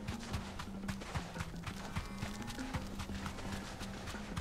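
A chocobo runs in Final Fantasy XVI, its hooves making a steady, quick clip-clop gallop that stays quiet and even throughout.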